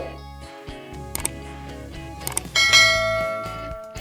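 A bright notification bell chime rings out over a busy electronic music bed, preceded by a few clicks and ticks, then decays with a shimmering tail.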